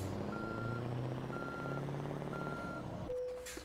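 Reversing alarm of a Scania R580S truck in Euro Truck Simulator 2: three evenly spaced steady beeps over a low engine drone, ending with a brief hiss as the sound cuts out.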